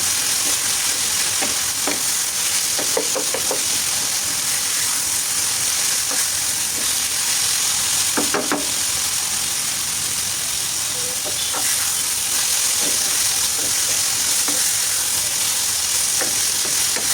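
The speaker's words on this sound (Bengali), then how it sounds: "খুব সুন্দর করে অনবরত নেড়ে চেড়ে রান্না করতে হবে একদম যেন এক ফোঁটা পানি না থাকে ভাজা ভাজা হয়ে যায়" Taro and prawns stir-fry in a pan, stirred constantly until dry, giving a loud, steady sizzle with repeated scraping stirs and clinks of the spatula and no talking.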